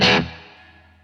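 Electric guitar played through an MXR Duke of Tone overdrive pedal, a single struck chord that rings out bright and gritty, then decays quickly into a fading sustain.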